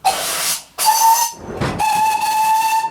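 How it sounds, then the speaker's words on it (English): A steam locomotive's whistle sounds in three loud blasts with hissing steam between them, close by and piercing, the last blast held longest. "he also gave me another responsibility: blowing the whistle"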